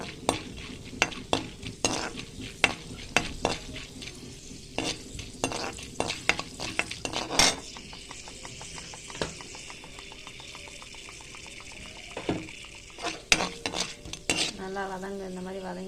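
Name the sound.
chana dal frying in oil for thuvaiyal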